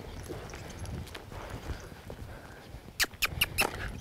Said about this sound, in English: we're gonna push him back up to a lope. Drive him up to a lope.